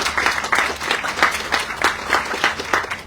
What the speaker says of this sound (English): Yeah, let's clap for